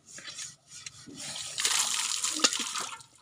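Water is poured out in splashing gushes, a brief splash then a longer, louder sustained pour close by, with no talking over it.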